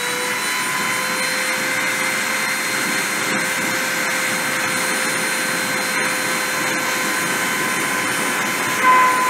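The motor of a deposition machine spins at about 30,000 RPM, a steady high-pitched whine with a constant whooshing hiss and a few faint clicks.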